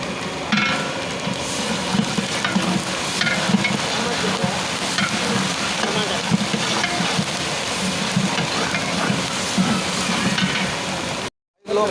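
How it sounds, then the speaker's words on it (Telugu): Dried red chillies, curry leaves and asafoetida sizzle and crackle steadily in hot oil for pumpkin chutney, a dense continuous frying hiss with faint stirring, ending in a brief cutoff. "మిరపకాయలు కరివేపాకు ఇంగువ వేసేసుకొని ఆయిల్లో మంచిగా గోలీ బాలి"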